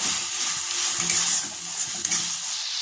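Spices for an egg paneer curry are stirred and fried in a pan, a loud, steady close sizzle with soft scraping from the stirring.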